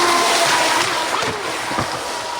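A Streamline Thrasher V3 RC jet boat on 6S LiPo power churns along a creek, a steady rushing whine with splashing and sloshing water, close by, under brief excited voices.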